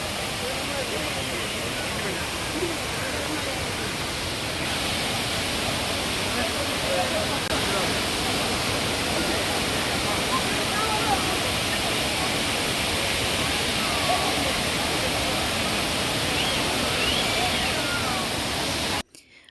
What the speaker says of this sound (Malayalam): പരസ്പരം സംസാരിച്ചാൽ കേൾക്കാൻ പറ്റാത്തത്ര ഉച്ചത്തിലുള്ള സൗണ്ടാണ് കേട്ടോ വെള്ളച്ചാട്ടത്തിന്